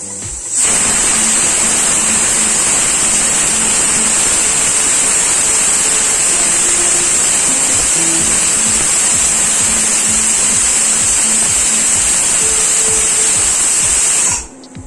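Pressure cooker cooking chicken rice lets out a loud, sustained high-pitched steam whistle and hiss that runs unbroken for about fourteen seconds before cutting off.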